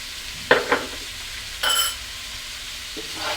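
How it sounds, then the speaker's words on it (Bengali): Spiced cauliflower with chili powder and salt is stirred in a pan over medium heat: a few scraping spoon strokes and a brief burst of sizzle over a quiet background. "এখন আমি সবগুলো উপকরণ নেড়েচেড়ে মিশিয়ে দিব।"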